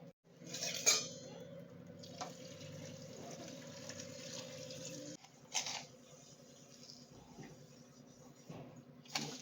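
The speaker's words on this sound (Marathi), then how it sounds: "आता आपण ह्या कुकरमध्ये टाकून घ्या आणि नंतर मीठ टाकू त्याच्यात नंतर शिजवून द्या" Chopped chai tubers go into a pressure cooker in a home kitchen, with metallic clinks and clatter of utensils and pot, sharp knocks at intervals and a faint background hum.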